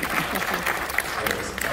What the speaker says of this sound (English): I want a round of applause for Brian and Gwen